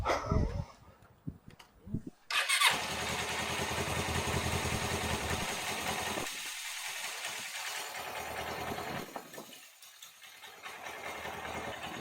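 A Suzuki GS 500 motorcycle being cranked and then starting, a few clattering attempts followed by the engine catching into a steady close idle that later drops and surges again.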